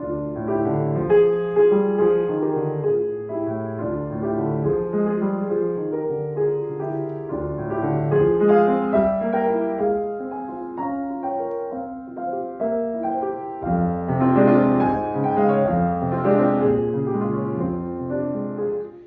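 Solo piano plays the first of five études about an immigrant's journey, a continuous flowing passage of chords and melodic runs that swells and ebbs, clear and close with no voices.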